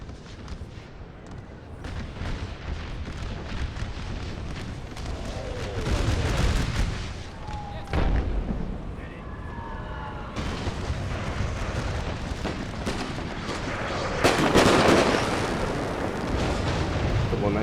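Continuous artillery and mortar barrage from an American Civil War game battle, with repeated heavy booms and crackling blasts over a loud rumbling backdrop, a big near detonation swelling around the middle and end.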